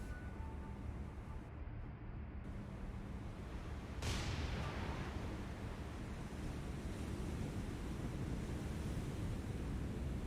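Naval gunfire shells splash into the sea around a ship in War on the Sea, a steady wash of surf-like water noise with a sharp broadband burst partway through.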